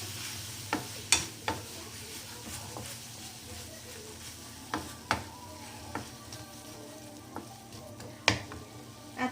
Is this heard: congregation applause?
no